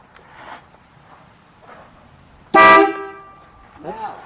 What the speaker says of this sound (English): We'll beep that horn.